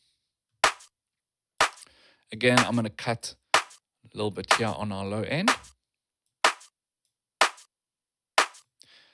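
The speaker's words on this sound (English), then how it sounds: "Now, because it's a clap" A house-beat clap sample in Cubase repeats as short, sharp, isolated hits. Someone talks between and over some of them.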